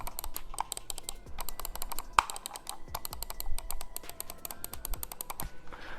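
A regular computer mouse clicked repeatedly up close, giving rapid, crisp ticking clicks in quick irregular bursts, sharper and busier than a quiet mouse.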